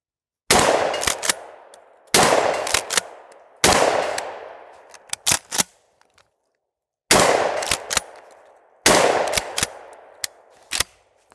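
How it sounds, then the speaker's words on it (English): A shotgun fires buckshot at steel plates, heard as five loud, close shots spaced a second or two apart, each followed by sharp metallic pings from the struck plates. "And that was actually buckshot I was just shooting."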